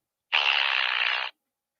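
A toy sound machine plays a fart sound effect, one steady buzzy blast lasting about a second, close and clear, on its own with no talking.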